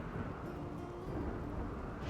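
A rainy thunderstorm in the colony-building game Rimworld, heard as a steady, dense low rumble and rushing wash of rain and wind noise with no talk over it.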